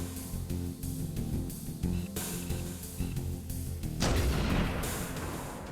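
Sniper rifle shots in Halo 1, a few sharp booming reports with a heavier burst near the end, heard over game ambience and music.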